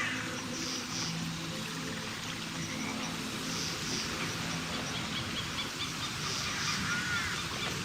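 Several honking, goose-like bird calls in the video game Hitman, over a steady background of rushing, stream-like noise and low hum, with no talking.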